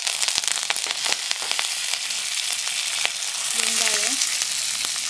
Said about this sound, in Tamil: பச்சை மிளகா, இதெல்லாம் சேர்த்து கொஞ்சம் வதக்கிக்கலாம்.